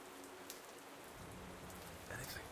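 Rain falls steadily in a dark fantasy tabletop game scene, a soft continuous hiss with a few faint distant rumbles, fairly quiet and without voices.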